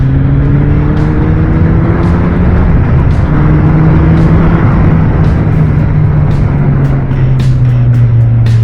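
A Suzuki GSX 1300R Hayabusa sport motorcycle's engine pulls hard under throttle while riding in sixth gear, a loud continuous drone whose pitch climbs steadily, with strong wind rush over the whole stretch and no talking.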